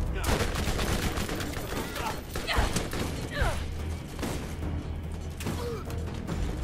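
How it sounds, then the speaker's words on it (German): Shotgun critical hit in the Borderlands video game, heard as dense, continuous gunfire and explosive bursts with mechanical clatter, loud and busy throughout the mix. "Der Shotgun-Crit."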